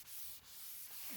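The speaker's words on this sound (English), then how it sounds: "I'll just give it a light sand now with a 230 grit sandpaper" Light hand sanding of a coffee table top with 230 grit sandpaper, a soft continuous rubbing hiss with brief stroke changes, close and quiet.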